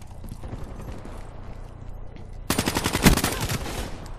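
Rapid automatic gunfire from the Black Ops 3 video game breaks out suddenly after a quieter stretch, loud and sustained for over a second with sharp repeated bursts.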